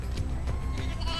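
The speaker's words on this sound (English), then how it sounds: "Nope, single sheep." A single sheep bleats in Final Fantasy XIII-2, a short wavering cry over a dense, continuous game soundscape with low rumble beneath.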